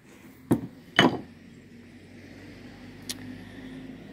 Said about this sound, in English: I've been tapping on this thing a little bit with that round hammer.